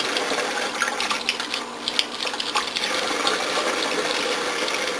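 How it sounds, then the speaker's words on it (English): Water pours steadily from a tap, splashing over a car battery sprinkled with baking soda during cleaning, a continuous close hiss with small irregular spatters. "Turn on some water."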